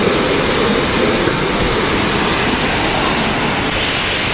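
Bulawan Falls, also called Golden Falls, in Dinalungan, Aurora, pours down in a loud, unbroken roar of rushing water that holds steady and close throughout.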